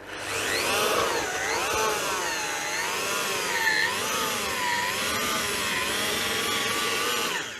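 A GTM MX-100/1600EM electric construction mixer drills into soil, its motor whining loud and continuous with wavering pitch as the load shifts, alone without talk.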